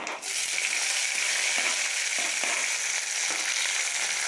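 Chopped onions frying in hot oil seasoned with cumin and whole black pepper, a loud, steady, close sizzle that keeps going through the whole stretch with faint stirring knocks beneath it.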